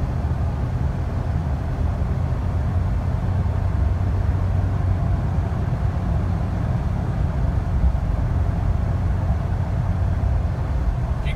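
A 2006 Jeep Wrangler TJ driving along an airport road, a steady low engine drone mixed with road and wind rumble, heard from inside the cabin with no talking.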